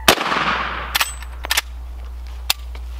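A .357 or .44 Magnum gunshot fired into stacked paper bundles: one sharp, loud blast at the start with a long decaying roar, followed by a few fainter clicks and a small crack later.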